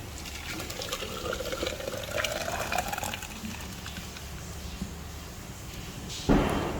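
Mango curry for a Vishu special recipe is poured into a clay pot, giving a soft continuous liquid pour and trickle close by, which ends in a brief louder splash or clatter near the end.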